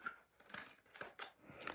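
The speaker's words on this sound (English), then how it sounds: "This is a really long Tim Holtz scissors." Long Tim Holtz craft scissors snipping paper in several quick, close cuts, each a short crisp crunch spaced about half a second apart, with no talking.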